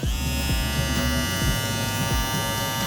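A WMARK 2039 electric hair clipper buzzes loudly and steadily at its high 9,000 speed setting, with a rattling, vibrating hum that never lets up.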